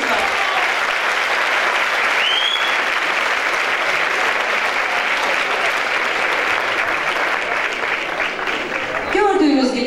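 A hall audience at a dance event applauds the organizers with steady, loud clapping that continues evenly, and a voice breaks in near the end.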